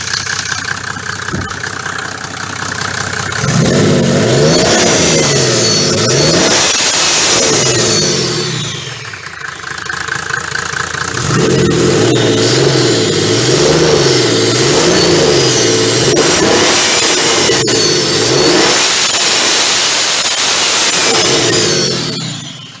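A Mercedes W124 with the OM603 diesel engine, running without its turbo after injector replacement, idles with a knocking clatter and then revs up twice in long, loud, rising and falling sweeps close by.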